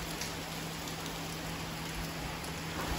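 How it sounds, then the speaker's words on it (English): Heavy rain pours steadily outside a house in a continuous, even hiss with no breaks, and a faint low hum runs beneath it. "Yeah, it's pouring rain outside."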